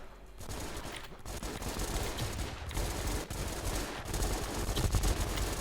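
A 300-shot fireworks cake fires a dense, loud, continuous barrage of rapid bangs, with brief dips between volleys and no voices.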